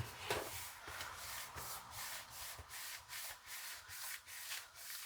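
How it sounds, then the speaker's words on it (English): Paper on a handmade 3D birthday cake card being rubbed down by hand, a soft, steady dry swishing in repeated strokes, close and fairly quiet with no talk. "Just rub that down again."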